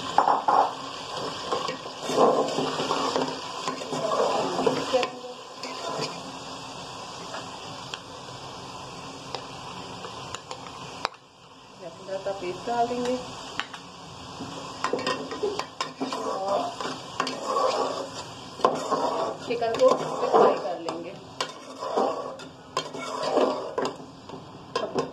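Chicken pieces frying with lightly browned onions in a pot for biryani, a soft sizzle under repeated stirring scrapes and metal utensil clinks that pause briefly midway before resuming.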